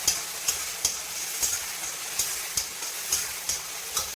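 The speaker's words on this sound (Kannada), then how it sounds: "ಚೆನ್ನಾಗಿ ಫ್ರೈ ಆಗಲಿ ಎಣ್ಣೆಯಲ್ಲಿ." Potatoes fry in oil with a steady sizzle, while regular scraping strokes from stirring recur about every half second.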